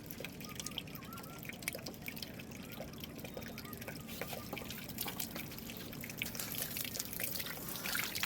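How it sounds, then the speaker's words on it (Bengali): Water from a garden hose pipe runs slowly into a pot of soil planted with a miniature lotus tuber, a soft continuous trickle with scattered drips and splashes, close and low in level, with no talking. "পাইপ দিয়ে জল দেওয়ার সময় পাইপটা এইভাবে ধরবেন"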